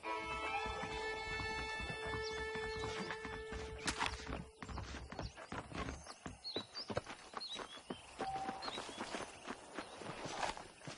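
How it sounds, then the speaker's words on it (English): Horse hooves clip-clop steadily at a walking pace in Red Dead Redemption, fairly close, over a busy bed of game music and ambient sound. "The horses are saddled up over here."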